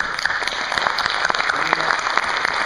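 An audience at a Montlhéry gathering honouring a motorcycle racer claps loudly, a dense, steady round of applause lasting throughout with scattered sharp individual claps.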